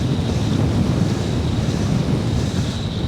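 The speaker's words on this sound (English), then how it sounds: "That wind's a bit vicious." Strong wind blows across a misty mountain summit at about 820 metres, a continuous heavy rumble of gusts buffeting the microphone and steady throughout, with no voices.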